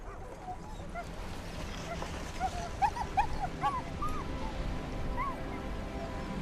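Sled dogs on an Arctic expedition whimper and yip in a cluster of short, high, rising cries midway through, over a soft steady background of wind-like noise, fairly faint and somewhat distant.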